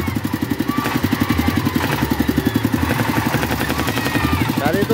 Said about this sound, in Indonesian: Nah, ini mesinnya lur.